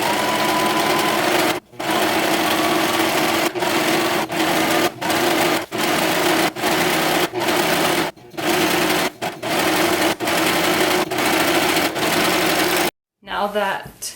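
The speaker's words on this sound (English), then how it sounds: "Now that both edges have been finished with a serger" A serger finishes the fabric edges of a witch costume, running loud and close in repeated bursts of a few seconds each, broken by brief pauses, with a different short sound at the very end.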